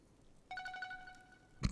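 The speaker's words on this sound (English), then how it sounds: "They're all just ringtones." A bright, chiming ringtone-like melody from the 1993 game Link's Awakening plays briefly and fairly quietly, a tidy electronic tone sequence ending in a sudden thump.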